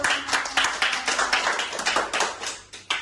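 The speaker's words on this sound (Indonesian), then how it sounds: "Tepuk tangan dulu." A group of students in a classroom clap their hands in a quick, fairly even run of sharp, close claps that lasts throughout without talk.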